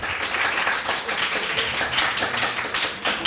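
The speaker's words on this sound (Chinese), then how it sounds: "今天给各位掌声鼓励一下" A theatre audience applauds after a stage performance, with dense, even clapping sustained close and loud throughout.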